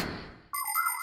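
In a cartoon, a parrot imitates a telephone ringing: a short, bright electronic trill that cuts in suddenly after a brief fading noise.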